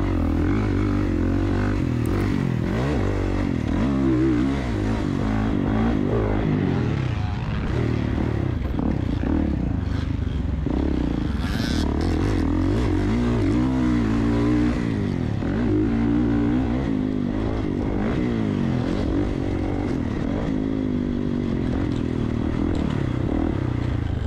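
Dirt bike engines, including a 2024 Kawasaki KX450, run at a motocross track during a 50-plus class race round. The roar is loud and continuous, with rising and falling revs, rattling clatter and no talk.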